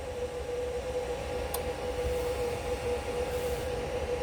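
A CNC router spindle on a Shapeoko XXL, driven by a Huanyang 110V 2.2 kW VFD, gives a faint, steady tonal whine over a constant hiss, holding one even pitch for the whole stretch.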